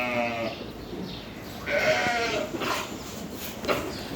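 A newly bought Sakız ram and other fattening livestock bleat several times in quick succession, fairly close and loud, with no talking.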